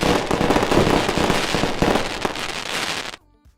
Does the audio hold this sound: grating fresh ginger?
no